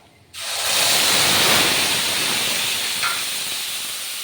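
A paste of ground onion, ginger, garlic and cashew hits a hot pan and sizzles loudly at once, then keeps up a steady, dense, close hiss that fades only slightly, with no talking.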